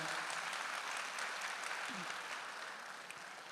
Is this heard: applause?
yes